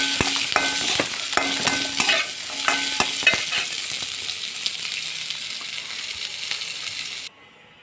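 Onions sauté in a pan over a steady, loud sizzle, with rhythmic clinks and scrapes of a spoon stirring against the pan before the sound cuts off abruptly near the end.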